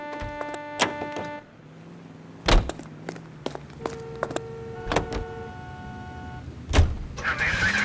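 Car interior in the video game L.A. Noire, with engine rumble, power-window whirs and several sharp door-slam thumps mixed with tonal game sounds, fairly loud and close.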